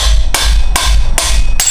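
Four sharp metallic hammer blows on a driver against a wheel bearing, evenly spaced about 0.4 seconds apart, loud and close with ringing decay, no talking.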